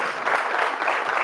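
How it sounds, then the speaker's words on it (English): A short burst of steady audience clapping at a live awards show, close and full, lasting just over a second with no voices on top. "Give this man a round of applause"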